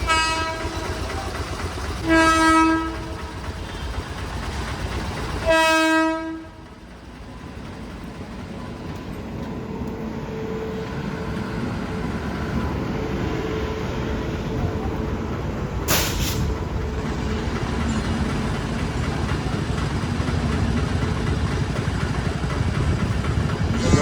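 A train sounds two loud horn blasts a few seconds apart, then rolls past with a long, steady rumble of wheels and carriages that stays strong to the end.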